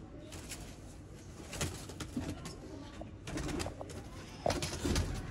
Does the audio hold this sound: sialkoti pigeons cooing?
yes